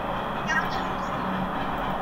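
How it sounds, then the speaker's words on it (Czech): Steady low rumble of a train rolling past, broad and continuous, with a faint high squeal briefly rising above it. "ale ide vlak"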